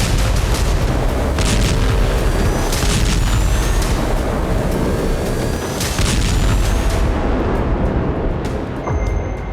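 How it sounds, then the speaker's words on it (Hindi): Heavy, continuous roar of a long-range missile strike on Crimea, with booming blasts and crackling bursts all the way through. Loud and dense, with no voices. "यूक्रेनी सेना ने क्रीमिया पर लंबी दूरी तक मार करने वाली मिसाइल से हमला किया।"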